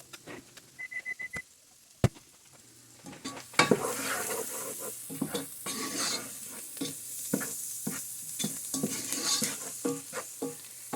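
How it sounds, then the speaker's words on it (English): Onions and vegetables sweating in a pot for ham and potato soup, stirred with a spoon: a few light taps and a sharp clank, then a steady sizzle broken by repeated scraping strokes, no talking. "We'll stir these once in a while."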